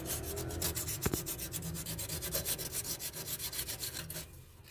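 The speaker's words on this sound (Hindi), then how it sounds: "इसको हल्का सा हम रब करेंगे एमरी पेपर के साथ।" Emery paper is rubbed across a rusty microwave oven body in quick, rhythmic back-and-forth strokes, producing a close, scratchy sanding sound with no talk.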